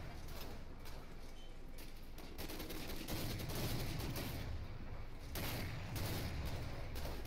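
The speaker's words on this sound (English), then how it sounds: "I don't know what our tanks are shooting at." Tank gunfire in Medal of Honor: Spearhead, faint and distant, with muffled booms and bursts of shots rolling at irregular intervals over a constant low rumble of battle.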